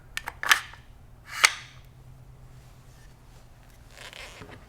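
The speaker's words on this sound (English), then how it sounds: "we can take our bolt assembly, slide it in the front of the receiver" A Benelli M4 Tactical shotgun's bolt assembly slides into the front of its receiver, giving a couple of sharp metallic clicks and a short scraping slide, close and fairly quiet.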